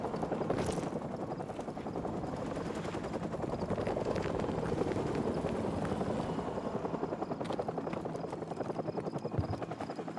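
Military helicopter in Call of Duty 4 Remastered, its rotor thumping in a steady rapid chop that stays loud and continuous throughout, layered with game ambience and no talk.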